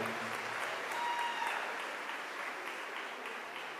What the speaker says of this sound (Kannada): ಒಂದು ಜೋರು ಚಪ್ಪಾಳೆಯೊಂದಿಗೆ ವೇದಿಕೆ ಬರಮಾಡ್ಕೊಳ್ಳೋಣ